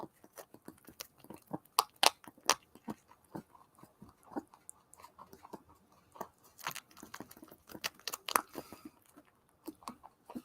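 A pet bunny, paralyzed, nibbles a cookie up close, giving soft, irregular crunches and bites in quick clusters with short pauses between them.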